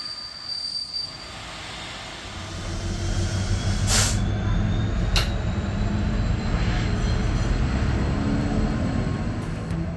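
An overnight passenger train from Przemysl rolls past close by in Poland, its wheels grinding and squealing on the rails in a loud, sustained rumble that swells after a quieter start, with a couple of sharp clanks.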